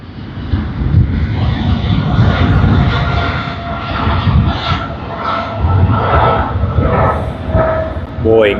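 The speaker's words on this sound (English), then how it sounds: "And we have Japan Airlines, the service to Tokyo Haneda." A Japan Airlines Boeing 777-300ER jet bound for Tokyo Haneda roars steadily at Sydney Airport, a loud continuous engine rumble with a person talking over it.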